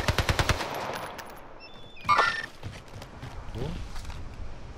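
Sniper gunfire in Call of Duty Modern Warfare: a rapid cluster of cracking shots at the start, then a sharper burst midway, over a low battlefield rumble.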